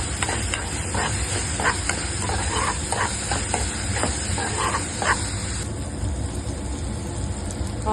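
Onions frying in a pan for chicken curry while being stirred: a steady, close sizzle with repeated scraping stir strokes over about five seconds, then a quieter simmer.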